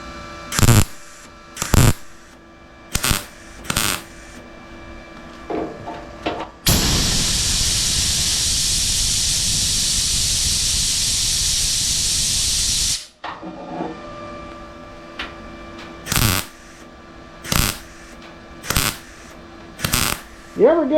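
Welding on a car rust repair gives a steady, loud hissing crackle for about six seconds, set between sharp clicks and knocks before and after, with no talk.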